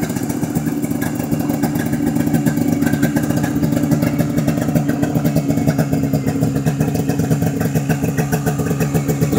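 A restored 1974 Raider-Hawk snowmobile engine runs at a steady, clattering idle, close and continuous throughout with a fast, even mechanical pulse.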